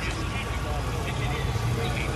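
A car engine idles with a steady low rumble that carries on continuously, while people talk over it.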